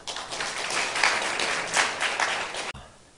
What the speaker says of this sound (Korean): 우리 따뜻한 박수 한번 보내겠습니다.